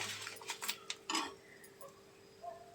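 A spoon scrapes and taps against a pan while flax seeds and a spice mix are stirred and dry-fried, giving a scattered series of quiet metallic clicks with no one speaking.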